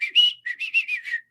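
A person whistles a quick run of short, bright notes, one longer tone followed by several rapid chirpy pulses, close and clear with no talking.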